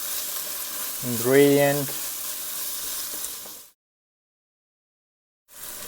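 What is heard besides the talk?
food frying in a pan for fish curry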